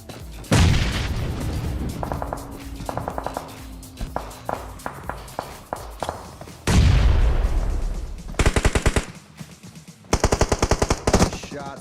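Gunfire in the battle royale game PUBG Mobile during a competitive match: long rapid bursts of automatic fire with sharp separate shots and a few heavy booms, loud and close, broken by short pauses and footsteps.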